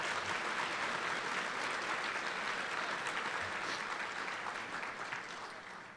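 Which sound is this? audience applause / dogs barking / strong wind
audience applause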